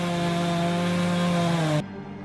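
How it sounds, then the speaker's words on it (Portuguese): A chainsaw cuts wood in the Amazon rainforest, a loud steady engine drone that holds for under two seconds and then stops abruptly. "Geralmente, logo em seguida, tem barulho de motosserra."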